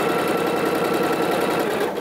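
Sewing machine stitching fabric for a coat, a close, loud, fast rhythmic mechanical whir running continuously and easing slightly at the very end.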